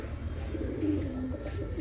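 A pigeon gives a faint, low, drawn-out coo, partly buried in a steady background hum and rustle, heard once near the middle.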